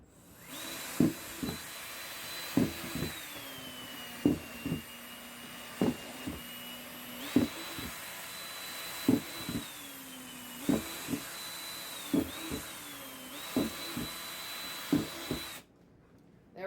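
A power drill bores ventilation holes in a plastic worm composting bin, a whining motor broken by repeated sharp bursts as each hole punches through, close and continuous before stopping abruptly.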